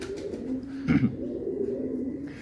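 A pigeon held in the hand gives a low, short coo near the mic, with a soft steady murmur of background around it.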